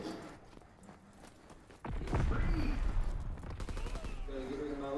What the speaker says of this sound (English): Machine gun incoming.